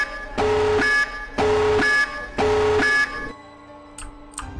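Alarm in a video game, three loud, evenly spaced electronic blasts with steady harsh tones, each about half a second long, followed by quieter background and a couple of faint clicks.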